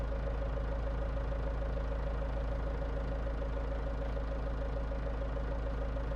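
A farm tractor with a front loader runs steadily at idle, its engine droning with a rhythmic knocking throughout, close and loud with no voices.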